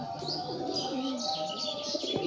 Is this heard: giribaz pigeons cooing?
yes